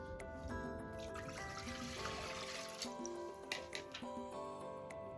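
Three cups of water pour into a bowl for a meat brine of brown sugar and salt, a continuous trickle with shifting pitch as the bowl fills, close and fairly quiet, with a few small splashes near the end.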